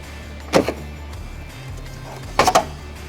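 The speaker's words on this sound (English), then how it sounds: "You can now remove the taillight by gently pulling it rearward." A Tesla Model Y taillight is pulled off, giving two sharp plastic clicking pops, the first single and the second a quick triple snap, close by against a quiet room with a faint low hum.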